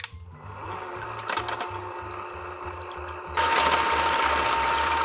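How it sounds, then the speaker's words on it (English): An electric hand mixer whirs through cake batter, a loud, close motor hum with a steady rhythmic pulsing that grows louder partway through. "we're supposed to use the electric mixer on here"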